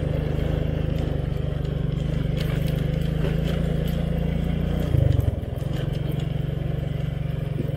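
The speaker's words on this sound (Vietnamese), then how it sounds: "Thôi bây giờ mình đi xe máy qua bên này" Motorcycle ridden through a town area in Vietnam, its engine a steady close drone with a brief surge around the middle before settling back to an even hum, no voices heard.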